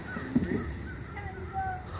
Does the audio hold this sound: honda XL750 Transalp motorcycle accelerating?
no